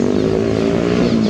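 A motorcycle engine drones steadily at close range on a white bridge over the Sinaloa River in Sinaloa de Leyva, with a continuous rumbling hum and no voices.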